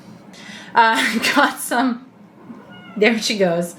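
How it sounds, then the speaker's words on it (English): A cat meows several times up close, drawn-out calls with a pause between two bursts, while a person talks over them. "My kitty is rubbing on my leg right now, so if you hear meowing"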